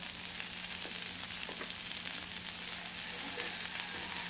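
Onions, garlic and carrots frying in a pan, a steady close sizzle that holds evenly throughout with a few faint clicks.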